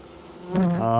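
Honeybees buzz around an opened backyard hive, one bee droning close by and growing louder and nearer partway through, alone without talk.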